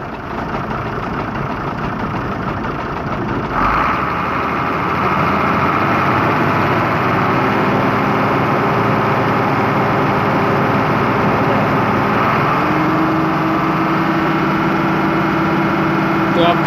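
A Hino truck diesel engine with low oil pressure runs steadily at idle, then the throttle opens and it settles into a louder, sustained high rev, heard close and continuous throughout.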